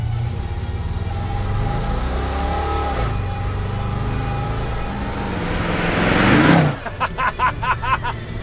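An LS-powered 1948 Chevy pickup truck revs up and accelerates hard, the engine roaring louder and rising in pitch before an abrupt shift and a pulsing, fading exhaust note as it pulls away.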